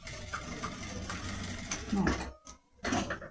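A sewing machine stitching clear plastic on a pencil case runs in a fast, rattling mechanical burst, pauses briefly, then starts again, close and moderately loud, with a voice talking over it.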